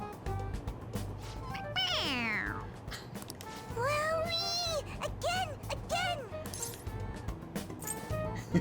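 A stuffed toy cat's electronic meow in the video game Persona 5 Royal repeats several times over a steady background hum, each cry bright and falling in pitch, fairly close and clear.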